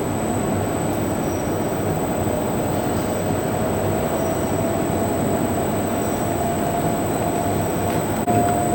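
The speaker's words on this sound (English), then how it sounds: "and then we will start the extruder. We will set, now we are running in manual mode, and we set the RPM to around 40." A plastic extruder runs in manual mode at about 40 RPM, a steady, dense mechanical rumble and hum with a constant high tone, unchanging throughout and without voices.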